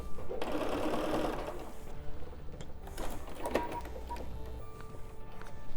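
A sewing machine runs stitching a quilt block, a close, continuous rapid mechanical whir with small pauses and handling clicks, no voices over it.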